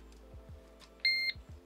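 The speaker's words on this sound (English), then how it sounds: "Lovely little alarm, absolutely perfect." A fishing bite alarm sounds one short, clear, steady electronic beep, close and loud, between faint handling knocks, with no talking.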